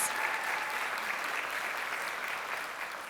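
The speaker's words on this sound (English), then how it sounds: "let's give them a round of applause, from Ascension Imaging Studios" Steady, dense applause from a live-show audience in Indianapolis honouring a photography team, a continuous even wash of many hands clapping for the whole stretch, with no voices standing out.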